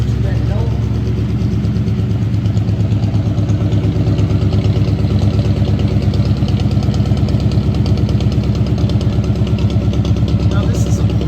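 A 1952 Ford F-1 pickup engine, paired to a 3-speed manual transmission, runs close and loud with a steady, throbbing low rumble and an even pulsing beat throughout.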